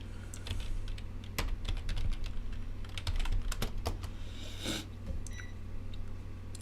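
Someone types on a computer keyboard in a rapid, uneven run of close, crisp key clicks over a steady low hum, with no talking.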